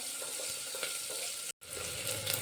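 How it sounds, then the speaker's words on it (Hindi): Chopped onion fries with cumin and asafoetida in a pressure cooker for masala pulao. A constant close hiss and crackle drops out abruptly for a split second, then resumes. "अब हम प्याज को 2-3 मिनट के लिए भून लेते हैं।"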